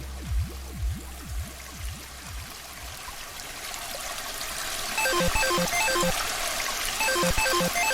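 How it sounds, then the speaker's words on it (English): In a Ludum Dare game, flowing water trickles and streams as a steady wash behind repeated synthetic swooping tones and later a bouncy chiming melody, with no speech. "I can hear some water there."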